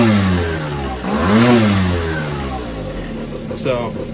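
An Aprilia DiTech motorcycle engine idles with a deep, uneven throb, rising briefly as if blipped, with someone talking over it.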